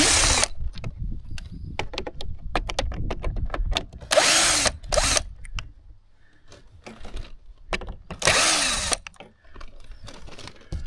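A power drill unscrews screws on a 2025 Lidl robot lawnmower, with two loud, sustained whirring bursts of about a second each, separated by scattered clicks and handling knocks close by. No one speaks.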